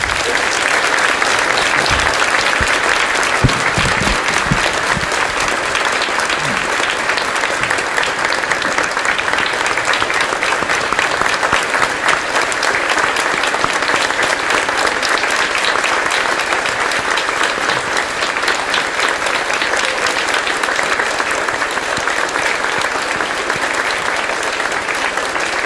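An audience at a Veterans Day celebration gives the veterans a long, steady round of applause, dense and loud clapping that continues unbroken for nearly half a minute.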